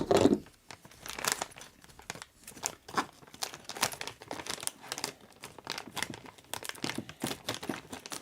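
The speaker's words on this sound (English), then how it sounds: "They can cut off articles of clothing in the EMS field, but they can't cut a plastic bag." Trauma scissors work at a plastic bag, making close, irregular crinkling and crumpling rustles in bursts over several seconds with no clean snip, and no talking.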